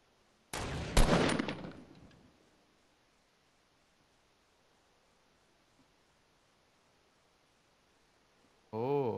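A dense burst of gunfire from the Fortnite video game rings out for about two seconds, then fades into near silence before a brief wavering tone at the very end.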